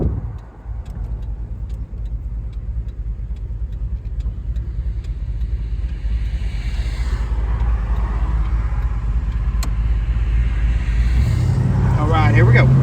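A 1970 Chevrolet Chevelle SS convertible rumbles close by with a steady, deep engine drone that swells as it pulls away, ending in a louder burst of revving.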